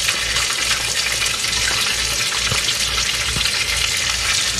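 Corn kernels frying in hot bacon grease in a pan, a loud, steady crackling sizzle with a few sharper pops, no talking.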